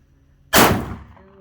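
Sig Sauer P210A pistol firing a single sharp, loud shot outdoors, with a short decaying echo after the crack.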